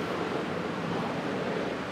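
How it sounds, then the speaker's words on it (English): Ocean surf near a South African beach house makes a continuous, broad roar of waves with some wind noise, loud and unbroken throughout, with no talking. "I guess it will get loud with the waves"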